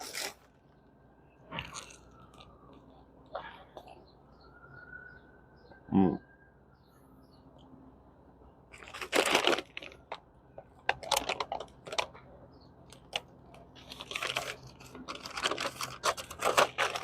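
Crunchy bites and chewing on a hot sesame bagel, with a few sharp isolated crunches early on and then denser bursts of chewing and crackling close to the mic, with no talking.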